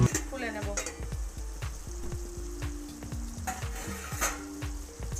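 Chicken pieces cook in a pan in the water they have released, giving a steady sizzle as a utensil stirs them, with repeated close scraping knocks against the pan.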